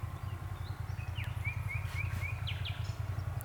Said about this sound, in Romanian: Auziți păsărelele?